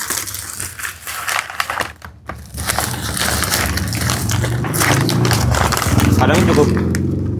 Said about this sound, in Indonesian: Kita plastikin dulu nih box aki, karena rawan lecet, rawan pecah, jadi mendingan diplastikin guys.